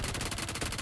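Rapid automatic gunfire from a BGMI battle royale match, a steady stream of close, evenly spaced shots lasting under a second with no pauses.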